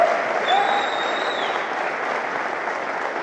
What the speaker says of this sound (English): can I just get a clap if this has any emotional meaning to you whatsoever?